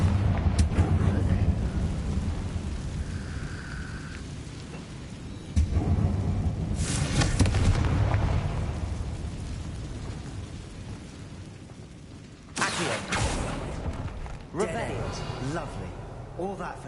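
A Confringo blasting curse goes off in Hogwarts Legacy as a loud, rumbling explosion over a constant roar of rain-like ambience, followed later by a second heavy burst that trails off into a deep rumble.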